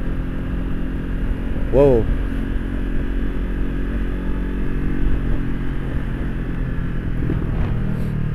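A Honda CB500X touring motorcycle on a test ride, its engine droning steadily with a low rumble and a brief rising rev burst early on, heard up close while a rider exclaims once.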